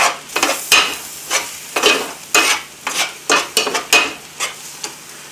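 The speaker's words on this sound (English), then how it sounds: "The vegetables, they're done, stir them a little bit." Cooked vegetables stirred in a pan on the stove: repeated scraping sweeps of a utensil against the pan at an uneven rhythm, loud and close, with a light sizzle underneath and no talking.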